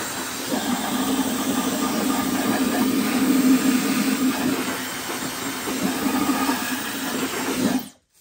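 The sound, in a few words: hair dryer blowing dust out of vacuum filter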